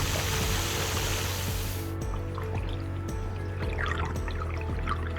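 High-pressure hydro jetting water blasting into a catch basin drain during cleaning, a steady dense rushing spray that drops away after a couple of seconds, leaving splashing, dripping and a low continuous machine hum.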